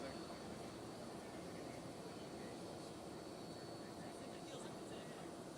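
A Russian plane doing a flyover, heard as a steady broad engine roar that fills the scene at a constant level, with voices faintly mixed in.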